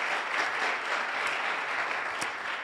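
A conference audience applauds warmly, a dense and even wash of clapping that holds steady throughout, without voices.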